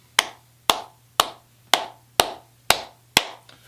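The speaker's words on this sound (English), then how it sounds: "Let's clap it up for them." Performers get applause as seven slow, evenly spaced sharp claps ring out near and clear, with quiet between each, like a single pair of hands rather than a full crowd.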